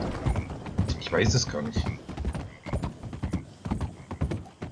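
Horse hooves clip-clop steadily in Red Dead Redemption 2, a repeated near rhythmic plodding beneath someone talking in German throughout.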